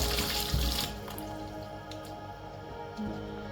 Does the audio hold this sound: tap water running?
yes